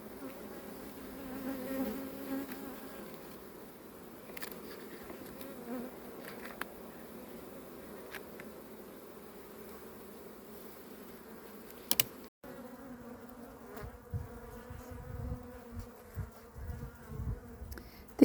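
A small late-summer honey bee swarm buzzes steadily around open hive frames, a continuous low hum that thickens with closer, louder bursts near the end.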